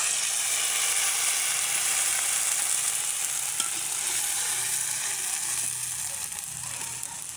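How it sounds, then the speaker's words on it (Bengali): Ground spice paste fries with browned onions in a pan, a continuous even sizzle and bubbling hiss with faint stirring, fairly quiet and without speech. "পেঁয়াজটা কিন্তু ভাজা হয়ে গেছে, এখন বাটা মশলাগুলো দিয়ে দেবো।"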